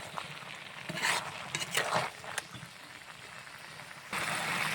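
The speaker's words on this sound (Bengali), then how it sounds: "সমস্ত মশলা দিয়ে চাপিয়ে দিয়েছিলাম, একটু নাড়াচাড়া করে দেবো" Spoon stirring a Bengali mixed vegetable curry of pumpkin, potato, carrot, peas and eggplant with spices in a pot, giving scraping, clattering strokes in short bursts over a soft simmering hiss.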